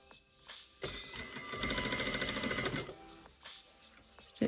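Close, quick burst of sewing machine stitching along a seam on a gathered garment, a rapid whirring run of about two seconds with softer handling clicks before and after.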